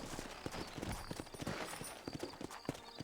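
Rhythmic clip-clop of horse hooves on hard ground, several saddled horses trotting steadily nearby, with a faint snort in a game-like outdoor ambience in Red Dead Redemption on Switch.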